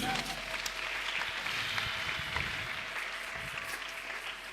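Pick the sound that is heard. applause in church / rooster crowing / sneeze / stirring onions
applause in church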